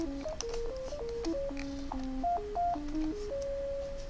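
Synthesized robot tones made as a sound effect: a rapid sequence of pure electronic beeps stepping up and down in pitch, ending on one longer held tone, clean and fairly loud with no talk.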